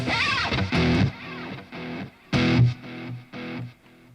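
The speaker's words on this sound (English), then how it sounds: "How much reverb and delay are you using?" Electric guitar notes and chords played in short bursts, each swelling and trailing off in a wash of reverb with echoing repeats, moderately loud, no voices.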